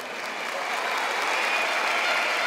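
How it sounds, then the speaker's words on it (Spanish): Sustained crowd applause at a neighborhood council swearing-in ceremony with Peruvian police, dense and steady, with no one talking over it. "Un aplauso para ustedes"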